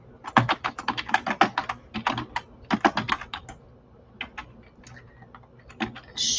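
Fast, uneven bursts of typing on a computer keyboard, close and fairly loud, with clusters of key clicks separated by short pauses and no talking.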